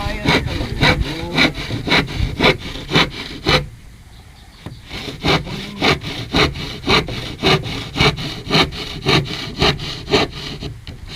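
Hand saw cutting through hard wood while building a nipa hut, close and loud, a steady rhythmic run of back-and-forth strokes with a brief pause midway before the strokes resume.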